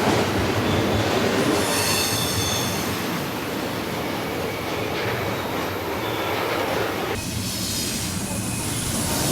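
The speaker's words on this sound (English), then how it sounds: "another lengthy freight train passes" A long freight train rumbles steadily past on the line between Jasper, Kamloops and Vancouver, its wagons rolling with a dense, continuous roar and squealing wheels, loud and close throughout with no break.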